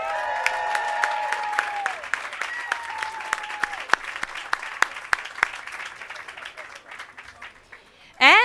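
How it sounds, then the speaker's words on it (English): Outdoor audience applause at a Hollywood Walk of Fame ceremony, a sustained crowd of clapping with scattered sharp individual claps, and a voice speaking over it early on before the applause thins out. "let's give a round of applause for the Hustle co-star"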